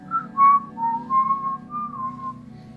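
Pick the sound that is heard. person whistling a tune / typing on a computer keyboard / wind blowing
person whistling a tune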